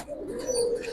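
A young female pigeon gives a short, low coo, a single steady rolling note lasting about a second, heard close against faint background hiss.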